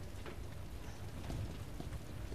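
Rain falls in the video game Resident Evil 2, a steady, faint hiss of downpour with soft patters spread evenly across the moment, heard with no voices over it.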